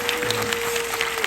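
An audience at a Korean film event claps together in a continuous, dense wash of applause that stays at a fairly steady level, with a faint tonal hum running underneath.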